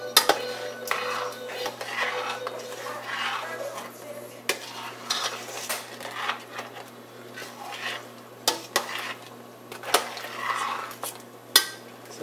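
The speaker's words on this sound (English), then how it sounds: "So we're going to mix the crabs in real good" Clattering and scraping of a utensil stirring crabs through a pot of seafood gumbo, with irregular knocks and a steady bubbling simmer underneath, no talking.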